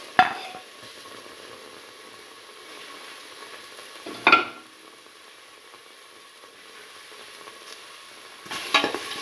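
Tomato pieces frying in a pan, a soft continuous sizzle broken by three louder bursts as they are stirred or added, no voices.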